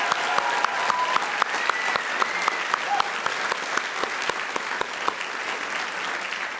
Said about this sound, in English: give all of our faculty and Dr. Kim Little a big round of applause